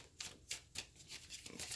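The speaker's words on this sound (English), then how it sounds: "So I'm just kind of giving a really, really good quick shuffle." Tarot cards given a quick shuffle, about six crisp riffling bursts in an irregular rhythm, close and quiet, with no talking.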